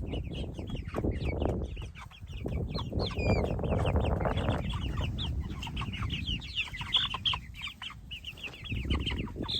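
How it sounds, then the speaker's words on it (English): Chickens cluck and chatter busily at close range, a steady jumble of short calls with no talking. "Now they just look like young chickens."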